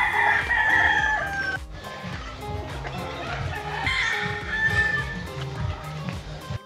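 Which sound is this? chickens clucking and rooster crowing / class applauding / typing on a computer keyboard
chickens clucking and rooster crowing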